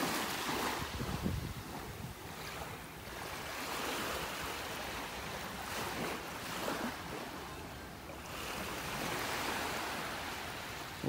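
Ocean waves wash onto a beach in North Naples, Florida, a steady broadband roar with gentle surges, mixed with wind buffeting the microphone and no talk.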